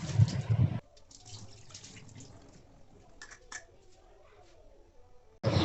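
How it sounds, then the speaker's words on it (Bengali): Fish being washed under a running kitchen tap, a steady soft trickle and splash with faint handling noises, framed by louder bursts of water at the start and end. "ঠিক আছে, তাহলে আমি মাছগুলো ধুয়ে নিই"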